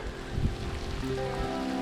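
Steady rain hisses in the background with a low rumble and faint tonal hum, continuous and moderately loud, no voices.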